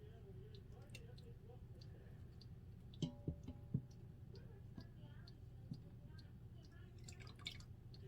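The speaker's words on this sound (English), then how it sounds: "using a slotted spoon, we are going to very slowly just scoop up our cheese curds into our draining apparatus" Cheese curds lifted with a slotted spoon drip whey in soft, scattered droplets, with a few quick clicks of the spoon against the pot over a faint low background hum.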